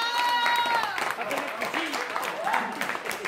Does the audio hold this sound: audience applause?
yes